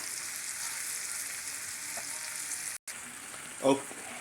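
Browning ground meat sizzles steadily in a pan, a close, even frying hiss that cuts out briefly before a short louder burst near the end.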